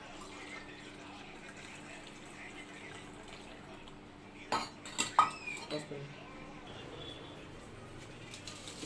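Badam ice cream mix poured into four tumblers, with clinks of glass and utensils and a brief burst of pouring and clatter midway over a quiet kitchen background.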